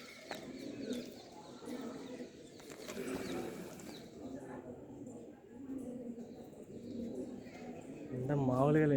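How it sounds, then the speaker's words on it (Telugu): Pigeons cooing at the Thanjavur Brihadeeswara temple, soft low coos scattered through a busy crowd with people talking nearby, and a louder tonal call rising at the very end. "పావురాలు ఉన్నాయి"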